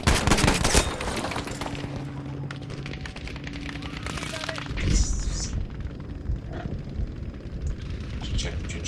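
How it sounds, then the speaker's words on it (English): Artillery fire in the video game Battlefield V: a loud burst of booming blasts at the start, then a rolling, distant rumble of gunfire and explosions continuing underneath, with another heavy impact midway. "The sound of artillery. I'm so glad they added that in."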